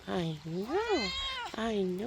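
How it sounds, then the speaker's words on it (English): A pet cat meows in a garden, giving two drawn-out, rising and falling meows close to the listener, with a brief pause between them and no talk over them. "Oh, this is my cat."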